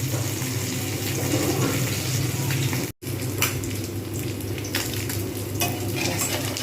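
Pomfret fish frying in a pan with mustard and poppy seed paste, a loud continuous sizzle with stirring scrapes, broken by a brief silent gap midway.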